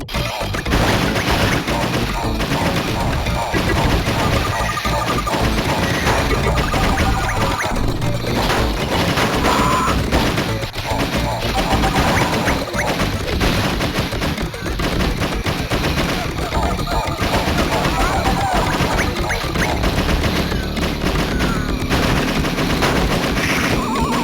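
Relentless automatic gunfire from Cadillacs and Dinosaurs: The Second Cataclysm rolls on without pause, loud and dense, with crashes and impacts layered over the steady rattle of shots.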